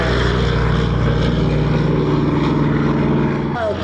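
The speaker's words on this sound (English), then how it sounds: "Corsair on the takeoff roll." A Vought F4U Corsair World War II warbird rolls for takeoff at an air show in Reading, Pennsylvania, its piston engine and propeller giving a loud, steady, throaty drone that holds constant throughout.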